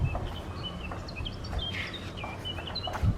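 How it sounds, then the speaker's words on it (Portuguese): A songbird singing outdoors, scattered bright chirps and short whistled phrases spread over a few seconds, moderately distant above a low background rumble. "Há aqui um pássaro que vai cantando belamente"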